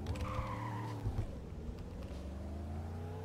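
Tires of a 1969 Dodge Coronet Super B squeal loudly while cornering, a sustained screech over the car's steady engine drone, fading slightly as the turn ends.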